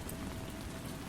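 Soft, steady rain falls on a surface in a continuous even patter, close and gentle, with no voices or other sounds.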